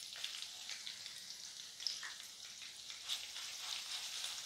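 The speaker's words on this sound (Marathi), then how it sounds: "हा लसूण ही छान परतून घ्यायचा आहे" Garlic and coriander paste frying in a pan gives a soft, steady sizzle with light crackles throughout, quiet and close with no voices.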